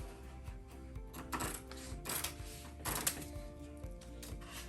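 Scissors cutting out fabric for a circle skirt, faint crisp snips in an uneven series of bursts against a quiet room, with no voice over them.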